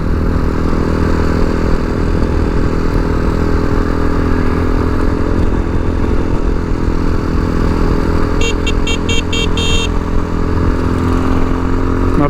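A TBR7 Chinese dual sport motorcycle being ridden on a road, its engine droning loudly and steadily close up with wind rush, and a brief run of rapid ticking clicks near the end.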